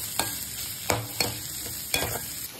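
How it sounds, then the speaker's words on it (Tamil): Onions and chillies with curry leaves are stirred in a hot pan of oil for a Kongu-style chicken dish, soft sizzling broken by about five sharp spoon scrapes at an uneven pace, close and fairly quiet. "இப்ப இந்த வெங்காயம் வந்து நமக்கு நல்லா ஒரு பொன் நிறம் வர வரைக்கும் நம்ம நல்லா மிக்ஸ் பண்ணி விட்டுக்கலாம்"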